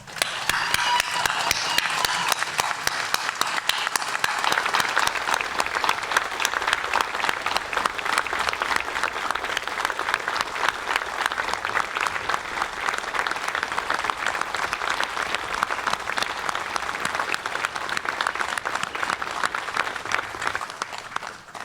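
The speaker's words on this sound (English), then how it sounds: "I'm asking you for a sustained round of applause for these heroes" Sustained applause from a large audience at an annual officers memorial ceremony honoring fallen police, a dense, even roar of clapping that holds for over twenty seconds with a faint murmur of voices at the start.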